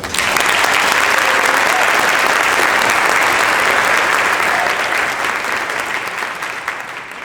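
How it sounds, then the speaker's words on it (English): Strong, sustained applause from the audience at a high school band event honoring the students, a dense wash of clapping that holds steady, then thins slightly near the end. "give those students a round of applause"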